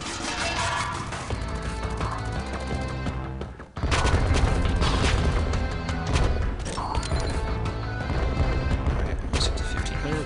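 Rocket drop explosions and gunfire in the OTTTD tower defense game, a dense, continuous barrage of blasts and shots over game music. It drops out briefly near four seconds, then the barrage returns at full strength.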